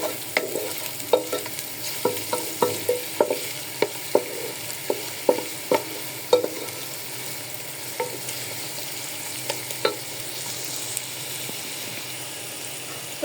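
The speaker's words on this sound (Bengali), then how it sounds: "আমি পেঁয়াজগুলো ভাজি করে নিই" Onions frying in oil with cinnamon and bay leaf, a low hiss under repeated sharp taps and scrapes of a spatula against the pot, coming in an irregular rhythm that thins out toward the end.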